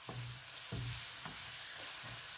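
Sautéed papaya (ginisang kapayas) sizzling steadily in a hot pan, Filipino home cooking, with a few distinct scrapes of a spatula stirring at intervals; no talking.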